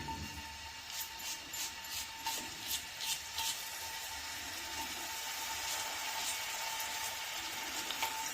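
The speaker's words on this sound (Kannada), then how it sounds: "ಸಣ್ಣ ಈರುಳ್ಳಿನ ಒಂದು ಸಣ್ಣಗೆ ಹಚ್ಚಿ ಫ್ರೈ ಮಾಡೋಕೆ ಹಾಕ್ತಾ ಇದ್ದೀನಿ" Chopped small onion fries in hot oil, a faint steady sizzle with soft rhythmic scraping or stirring strokes in the first few seconds, then a quieter even crackle; no talking.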